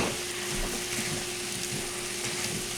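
Steak with peppers and onions fries on a stovetop, a soft, continuous sizzle with a steady hum underneath and no voices.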